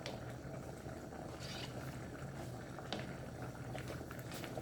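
Steady bubbling and sizzling from a pot of meatless vegan spaghetti sauce simmering, continuous and fairly quiet with occasional small pops.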